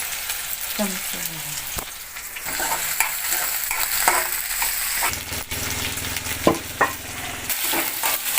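Onion, garlic and green chilli sautéing in a hot pan sizzle steadily up close, broken by repeated stirring scrapes and occasional spatula knocks against the metal.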